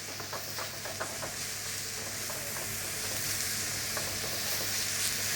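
Chicken for Thai larb gai sizzles in a pan as it is stirred and broken up, a steady close frying hiss with scattered scraping clicks of the spoon and no voices.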